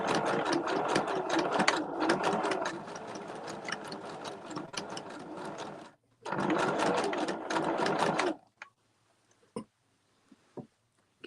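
A sewing machine stitches a rope bowl in two fast, steady bursts close by, separated by a short pause, then stops, leaving only faint handling clicks.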